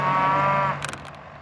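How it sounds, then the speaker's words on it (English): Cows on a farm low in one long, loud moo while a farmer feeds them, followed by a few brief clattering knocks as the call fades. "A farmer feeds his cows."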